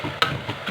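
Garlic and fava beans stirred in a frying pan: a short scrape of the spoon, then soft repeated clicks and light scrapes over a quiet sizzle.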